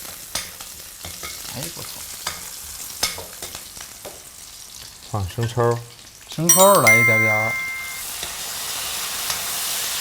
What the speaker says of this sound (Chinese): 滋滋啦啦的感觉好热闹